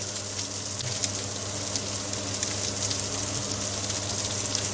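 Carrots tipped into a frying pan with pork give a steady, loud sizzle of frying that holds without a break the whole time, with no talking.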